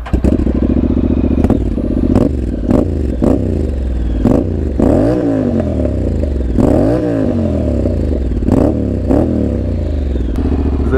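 A 2023 Honda X-ADV scooter fitted with a twin-outlet double exhaust, revving hard in repeated loud throttle blips with crackling overrun between them, close up and with no talking.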